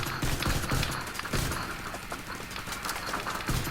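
Rifle fire from the Ravenous weapon in The Division 2, a dense, loud burst of shots layered with game effects, continuous over a few seconds.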